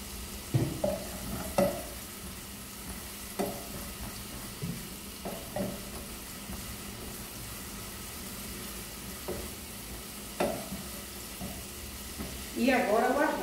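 Meat and garlic fry in a pan with a soft steady sizzle, punctuated by intermittent scraping stirs and clinks of a utensil, louder stirring near the end, with someone talking occasionally.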